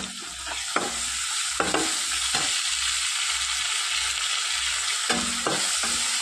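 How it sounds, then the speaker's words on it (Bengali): Ginger and garlic paste fries in a pan for omelette curry, a continuous bright sizzle punctuated by several scraping strokes of a spoon stirring, close and clear without speech. "নাড়াচাড়া করে নেব।"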